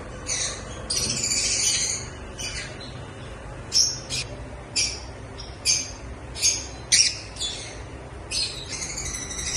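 Lovebirds of prized colour mutations give sharp, scratchy squawks and chirps in bursts. A busy stretch comes first, then a string of separate loud calls, with no talk.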